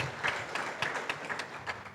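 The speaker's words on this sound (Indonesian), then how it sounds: "Yang setuju berikan tepuk tangan meriah bagi Tuhan" Church congregation at a worship service applauding together, a moderate, steady patter of many hands clapping across the brief moment, slightly distant and fairly even.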